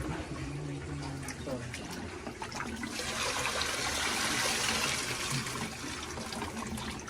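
Water gushes and splashes steadily as it is poured, swelling in the middle, with people talking underneath in an outdoor setting.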